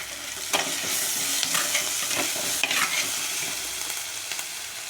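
Shallots and curry leaves sizzling in a frying pan for a spicy sardine curry, a bright steady crackle close up, punctuated by several scraping stirs, with no voices.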